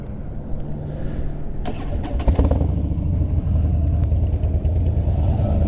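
A Harley-Davidson Street Bob engine cranks and fires back up after stalling, a brief clattering starter burst giving way to a steady, close, rumbling idle that continues to the end.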